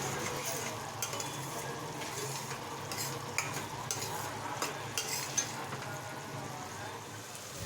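Tamarind pulp with salt cooks down in a pan, giving a continuous thick sizzle and bubbling, with a few sharp spoon taps and scrapes as it gets stirred, close and steady.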